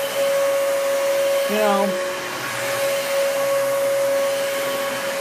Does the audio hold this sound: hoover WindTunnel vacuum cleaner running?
yes